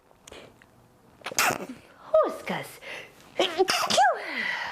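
A person sneezes sharply in an indoor yoga class setting, a sudden burst amid other brief voice sounds and chatter.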